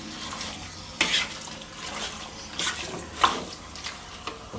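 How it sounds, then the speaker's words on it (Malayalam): Water poured into a Kerala-style green pepper chicken curry in a pan, with a few short splashy pours and trickles between quieter stretches, close and fairly soft with no talking. "കുറച്ച് വെള്ളം ഒഴിച്ചു കൊടുക്കാം."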